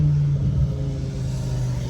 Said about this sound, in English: The downshifts are nice.